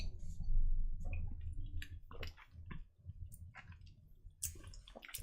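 Water added to a glass of Octomore peated whisky, giving a few soft splashes and drips close by, with brief clicks of glass and light handling noise and no talk.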